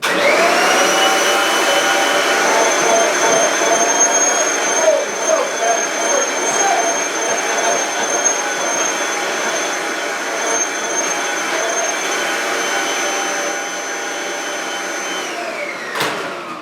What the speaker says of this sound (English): I'm just going to vacuum that cushion one more time for you.